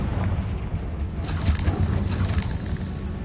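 Confringo, the explosive spell in Hogwarts Legacy, goes off as a booming, rumbling blast that swells about a second in and rolls on through dense game noise, with no talking.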